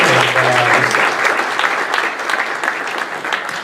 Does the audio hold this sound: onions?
no